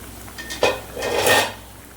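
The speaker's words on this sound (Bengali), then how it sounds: "ঢাকাটা খুলে নেবো" A metal lid lifted off a pot of simmering hilsa fish curry with pumpkin greens, a single close clank followed by a brief scraping slide.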